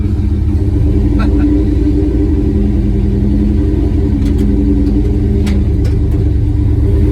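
An LS-swapped car with a T56 manual gearbox rumbles steadily up close, a deep continuous engine drone under a few faint clicks and knocks.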